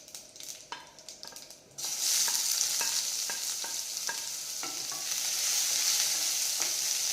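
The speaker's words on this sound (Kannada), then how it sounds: "ಈಗ ನೋಡಿ ಜೀರಿಗೆ ಸಾಸಿವೆ ಸಿಡಿದಾಯಿತು" Cumin and mustard seeds crackle and pop in hot oil, a few sharp snaps at first, then a loud sizzle swells up with scattered pops continuing throughout.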